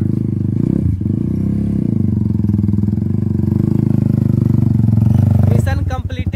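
A motorcycle labours up a rough, dangerous jungle path with a loud, strained, continuous engine drone and rattling clatter, ending in a few sharp bursts as it clears the climb.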